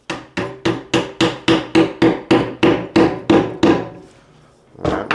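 A rubber mallet strikes a Miller dowel into a pine workpiece in a steady run of about twelve sharp, evenly spaced taps, then a short pause before another blow begins.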